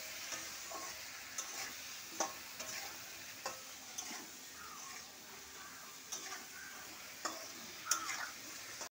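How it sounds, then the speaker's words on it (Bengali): Spices and turmeric being stirred and fried in a pan with salt, giving a steady quiet sizzle broken by sharp intermittent scrapes and taps of the spoon against the pan. "এবার আমি আর একটুখানি কষাবো"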